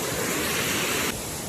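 Water rushes down from a small village waterfall into a culvert, a dense, loud and steady roar that drops abruptly in level near the end.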